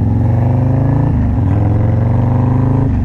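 Close, loud motorbike engine note that drops and shifts pitch as the rider rev matches while going down into first gear, with a rough, uneven idle between the revs.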